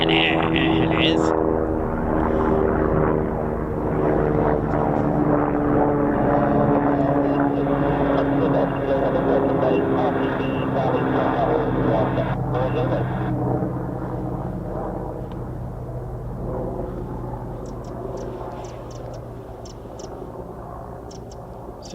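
Military fighter jets, F-15s and F-18 Hornets, passing low through a mountain lake low-flying area, a sustained loud roar that slowly fades, with talk over it.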